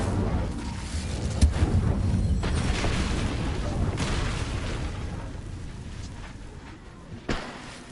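Incendio fire spell cast in Hogwarts Legacy, with a rumbling, roaring blast that fills the clip and a sharp pop near the end.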